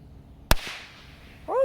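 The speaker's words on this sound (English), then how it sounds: "here goes a firecracker with the paper coming off" A damaged firecracker with its paper coming off bursts with a single sharp, loud crack. Faint quiet follows, then a voice begins talking right after.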